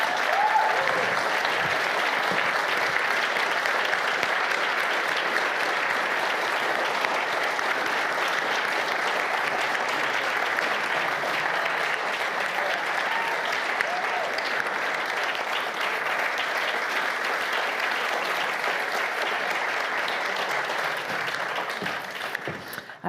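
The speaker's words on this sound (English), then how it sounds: "please give a huge round of applause to..." Sustained audience applause at a startup demo day awards event, steady dense clapping that holds loud and even for over twenty seconds before tapering slightly at the end.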